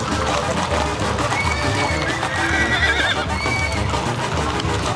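Horses in a cabalgata horseback parade for the Apodaca, Nuevo León anniversary whinny and clop along amid steady crowd and road noise, the hooves blending into a continuous busy outdoor din.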